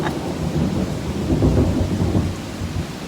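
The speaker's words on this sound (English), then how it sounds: "whoa, holy thunder" Loud rolling thunder from a morning storm rumbles continuously, with steady rain falling on surfaces and spattering drops close by throughout.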